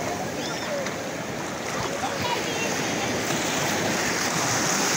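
Ocean surf rolls in as a steady, loud wash of breaking waves around a surfboard rider trying to catch small waves, with wind buffeting the microphone and no pauses in the roar.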